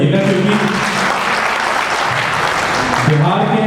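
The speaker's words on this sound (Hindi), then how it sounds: "एक बार जोरदार ताली बजाइएगा" Loud audience applause fills a religious organisation's meeting in a temple courtyard, steady clapping throughout with voices mixed in underneath, swelling slightly near the end.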